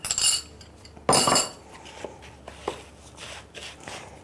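A spoon scrapes and clinks against a bowl as breadcrumbs are mixed into a chickpea and lentil fritter mixture, with two loud bursts of stirring followed by softer, intermittent scraping close by.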